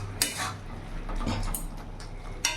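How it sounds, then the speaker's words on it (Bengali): A spoon scrapes and clinks against a metal pot while spinach, potato and radish curry is stirred, a few sharp knocks standing out over a soft low hum, with no talking. "এবার ভালো করে নাড়াচাড়া দিয়ে"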